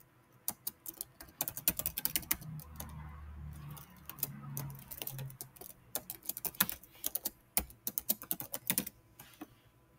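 A computer keyboard is typed in an uneven flurry of close, crisp key clicks and taps, some sharper strikes among them, with brief gaps and a soft low rumble underneath.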